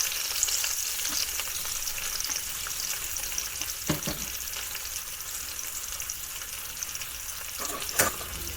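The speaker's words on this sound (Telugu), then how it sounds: "నెక్స్ట్ ఆనియన్స్, ఒక పెద్ద ఆనియన్ కట్ చేసుకొని ఇలా వేసుకోవాలన్నమాట." A large chopped onion fries in hot oil with cloves and cinnamon for masala rice, giving a continuous close sizzle with a couple of brief utensil knocks as it is stirred.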